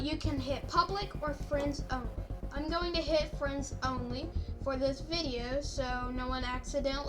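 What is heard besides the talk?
No everyday noises stand out.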